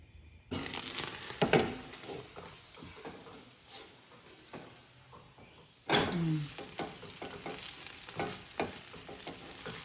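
Sarvapindi, a Telangana rice flatbread, fries in a pan with a steady sizzle, and several scraping and stirring knocks come through as it is handled. The frying grows louder and busier partway through.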